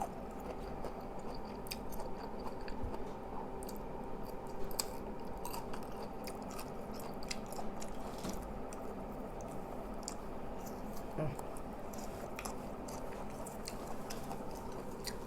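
Someone chewing salak fruit, a close run of crunchy bites and moist clicking chews repeating irregularly over a quiet background, with no speech.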